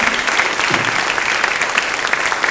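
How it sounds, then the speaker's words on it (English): Audience applause at a city State of the City address, a dense, steady clapping from a large room crowd, sustained throughout at fairly close range. "We give you a round of applause"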